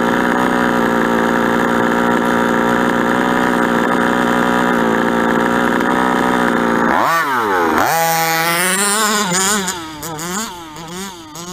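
The gas engine of a 5th scale Associated truggy with a poorly running carburetor holds a steady, loud, buzzing high rev, then swoops down and up through several uneven revs, bogging near the top.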